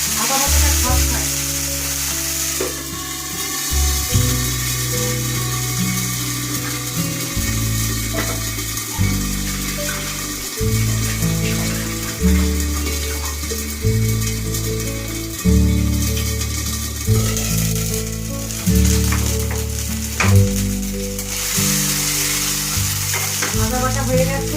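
Ginger paste fries in a pan for a Bengali parshe fish curry, a steady bright sizzle running throughout beneath loud background music.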